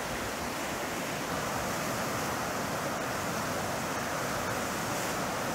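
The Androscoggin River runs high and wild after heavy water, a constant broad rushing roar close by with steady wind noise on the microphone and no voices.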